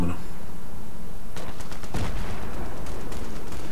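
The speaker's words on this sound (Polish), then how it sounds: "jakiś snajper mnie trzasnął, z lewej strony był" Sniper gunfire in the video game Battlefield 3: a few sharp shots crack in quick succession mid-clip over a bed of steady battlefield game noise.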